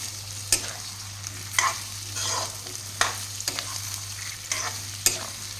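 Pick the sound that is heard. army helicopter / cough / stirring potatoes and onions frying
stirring potatoes and onions frying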